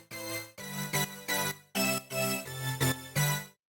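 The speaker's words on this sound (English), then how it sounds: "So what I've got here is we've got 2 saw waves." A synth layer built from two slightly detuned saw waves plays a series of bright, buzzy sustained chords, each held briefly with short gaps between, ending cleanly in silence.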